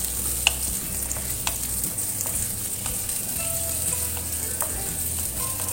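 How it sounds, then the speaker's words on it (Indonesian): Tempeh stir-fried in a pan sizzles steadily up close, punctuated by sharp scraping and clicking strokes of a utensil against the pan. "Jadi tempenya itu dioseng sampai harum baunya gitu ya"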